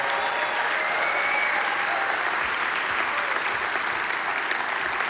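Congregation at Southwest Church bursts into sustained, loud applause for the pastor and his wife, a dense unbroken roar of many hands clapping across the hall.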